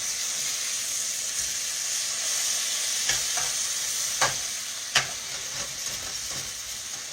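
Fish fries in butter in a pan, giving a steady close sizzle and hiss, broken by a few louder scrapes and clanks as it is stirred and turned; nobody speaks.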